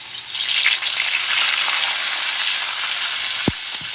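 Pork loin sizzling on a hot cast iron griddle after being turned over, a loud steady frying hiss throughout with a short scrape near the end.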